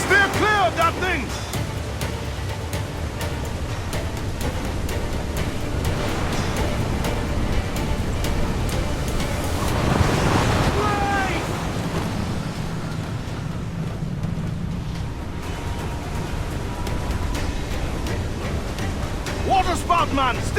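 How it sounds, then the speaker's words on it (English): A roaring waterspout at sea in the video game Assassin's Creed IV Black Flag, loud wind and crashing surf rushing without a break around a sailing ship, swelling in the middle, while crew voices shout over it. "Water spout, man! Stay wide!"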